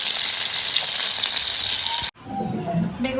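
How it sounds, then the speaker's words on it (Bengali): Eggplant slices fry in a pan with a loud, close, dense sizzle that cuts off abruptly partway through, followed by quieter, softer sizzling and faint kitchen sounds. "এখন এটাকে একটু ভেজে দেবো"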